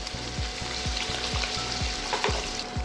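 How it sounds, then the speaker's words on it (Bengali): Triangular paneer pieces, lightly salted, frying one by one in white oil, a close, continuous crackling sizzle over a faint repeating mechanical hum. "এবার পনিরগুলো এক এক করে ভেজে নেব"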